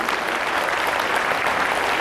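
Audience applause at a Ram Katha and 1008-kund yajna gathering at Salasar Dham, welcoming the dignitaries on stage; a brief burst of dense, even clapping from a large crowd.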